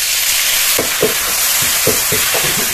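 Salt, turmeric and Kashmiri chili powder with a splash of water sizzle in oil in a pan over a low flame, a loud steady hiss broken by several soft stirring scrapes.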